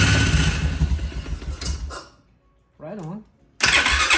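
A Polaris 500 ATV with a no-start problem cranks and fires up loudly at close range, the roar cutting off briefly while a voice speaks before the engine surges back in.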